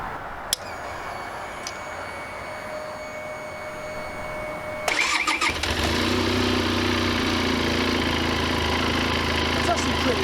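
A Benelli Special motorcycle is started with a key: a few faint electronic beeps and chimes, then a cranking catch that settles into a steady, close, fairly quiet idle.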